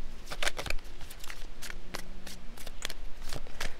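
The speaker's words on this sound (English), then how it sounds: "let me pull here from this, these aura reading cards" Aura reading cards are shuffled close by, a steady patter of soft, papery riffles and flicks with occasional sharper snaps, heard alone without speech.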